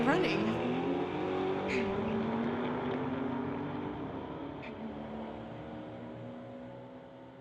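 A Plymouth Cuda and a BMW launch down a drag strip at a street-legal race night, a loud engine roar rising in pitch and fading into the distance, with a steady crowd and announcer murmur under it.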